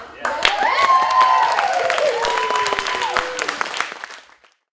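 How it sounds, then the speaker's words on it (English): Audience applause at a community dinner gathering in Tulsa, a dense wash of clapping that swells quickly, holds steady, then tapers off, with voices and cheers threaded through it. "Let's give a huge round of applause to the Tulsa 5."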